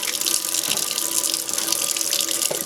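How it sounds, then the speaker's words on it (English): Tap water runs steadily into a kitchen sink, splashing over a whole raw organic chicken being rinsed, a continuous loud gush with no talking. "we want to get it rinsed off and cleaned up"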